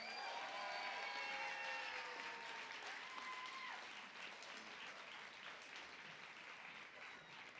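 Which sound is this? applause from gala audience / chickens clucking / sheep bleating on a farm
applause from gala audience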